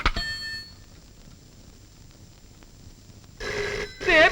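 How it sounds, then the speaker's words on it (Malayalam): A telephone rings in a Malayalam film scene, one short ring at the start and then two louder bursts of ringing near the end after a quiet pause. "പിന്നെയും ഫോൺ."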